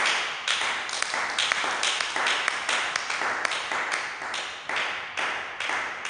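Church congregation clapping together in steady rhythmic applause, a dense run of sharp hand claps carrying on without pause and fairly close, no voices over it.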